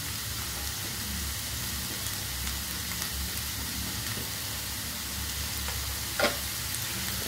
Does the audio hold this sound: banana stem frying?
yes